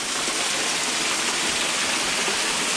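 A small waterfall spills into a forest grotto beneath a statue of the Virgin, giving a steady, unbroken rushing hiss of falling water, close and even with no voices over it.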